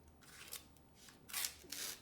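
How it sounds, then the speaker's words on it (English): A dull kitchen knife drawn across the edge of a sheet of paper, giving rough, scratchy rasping strokes in a few quiet bursts, close up with no talk. "Once you catch the edge, it does cut, but you can hear from the sound, it's very rough."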